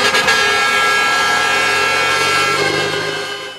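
Truck horns blaring during a truckers' protest against rising diesel prices on a Curitiba expressway, dense overlapping honks sustained loudly throughout with traffic noise underneath.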